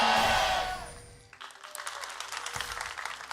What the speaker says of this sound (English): I definitely heard some fan cheering before the fan chant